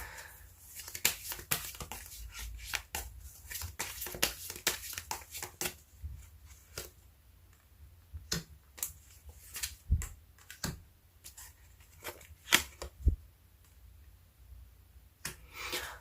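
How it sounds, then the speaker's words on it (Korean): Tarot cards are shuffled and drawn: a run of quick, crisp card flicks and snaps, dense in the first few seconds and then more scattered, with soft rustling between them. Close and fairly quiet, with no voices. "카드를 뽑아보도록 하겠습니다"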